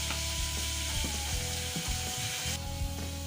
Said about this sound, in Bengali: এখন ডিমটাকে আমি ভেজে নেব